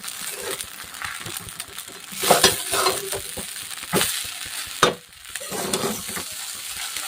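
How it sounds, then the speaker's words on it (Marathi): Kanda poha, flattened rice with onion, is stirred in a hot pan, a soft sizzle under repeated scraping strokes and a few sharp clinks of the spoon against metal, close up with no talk. "आणि आता परत छान असं मिक्स करायचं आहे"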